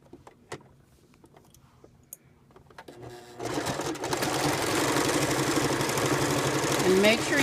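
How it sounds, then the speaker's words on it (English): A few quiet clicks and handling noises lead into a sewing machine stitching back and forth on a DIY neck cooler, a steady close, rapid whirring rattle that runs to the end. "sew it back and forth"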